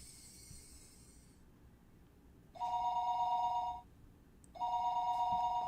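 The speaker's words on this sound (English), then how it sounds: "The phone rang a 3rd time." A telephone bell rings in two separate bursts of about a second each, with a pause between them, heard over a faint background hiss, with no voices.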